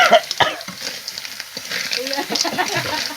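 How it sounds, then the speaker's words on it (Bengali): A vegetable curry is stirred in a sizzling pan, the spoon scraping in quick irregular strokes over a steady frying hiss, with a voice murmuring faintly underneath. "তো এটা নাড়াচাড়া দেওয়া হচ্ছে, নাড়াচাড়া দিচ্ছে বৌদি"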